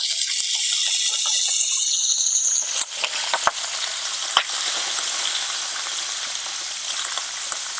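Finely chopped onions frying in a little oil, a loud continuous sizzle and hiss close up, with a couple of sharp clinks partway through and no voices.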